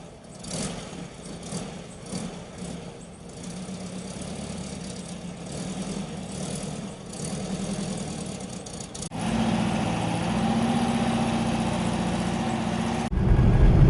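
A 1975 Volkswagen Brasilia's engine runs steadily at a low rumble, then swells louder as the car pulls away, with a sharp low thump right at the end.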